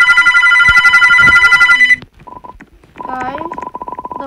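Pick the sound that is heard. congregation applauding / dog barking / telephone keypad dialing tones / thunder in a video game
telephone keypad dialing tones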